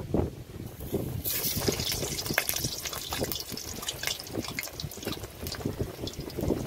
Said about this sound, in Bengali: এবার আলুগুলো ভালো করে ভেজে নেব।